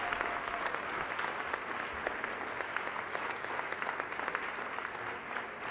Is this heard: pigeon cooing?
no